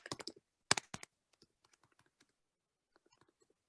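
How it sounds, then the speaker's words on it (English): Typing on a computer keyboard during an online meeting, a quick close burst of clicking keystrokes followed by scattered faint taps that trail off into quiet. "I can type it in the chat"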